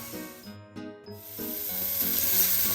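Bacon lardons sizzle in a pan, a steady broadband hiss that builds and grows stronger toward the end, layered under sustained background music.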